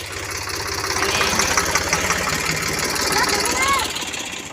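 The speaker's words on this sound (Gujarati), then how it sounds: "ટ્રેક્ટર ચાલુ હોય એટલે તમને થોડોક અવાજ પણ આવશે" A tractor engine chugs in a farm field with a steady, rhythmic low throb close by, its rumble constant throughout, with some voice-like sounds faintly mixed in.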